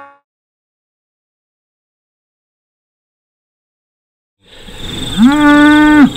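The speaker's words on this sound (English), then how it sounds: "There's just under 160 cows and calves, including first calvers right out to wide drop." After a long stretch of silence, one loud, close cow gives a single sustained moo near the end, from a herd of just under 160 cows and calves on a grazing farm.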